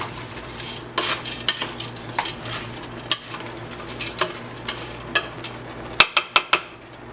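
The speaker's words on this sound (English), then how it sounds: "And just give this a good little stir." A spoon stirs boxed stuffing in a pot on the stove, giving irregular scraping and clinking strokes against the metal under a soft steady sizzle, with a quick burst of sharper clanks near the end.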